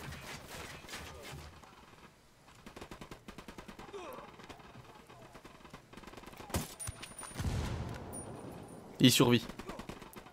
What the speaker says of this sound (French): je vais dire c'est un fusil de sniper